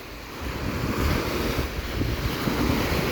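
Sea waves wash onto Bang Saray beach near Sattahip, Thailand, at low tide, a steady broadband surf rumble blended with wind buffeting the microphone, with no voices.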